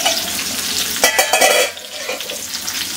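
Fish fries in a covered pan, giving off a continuous sizzle with a short burst of louder crackling and a few clinks as the lid or utensil moves, then settling back to a steady hiss.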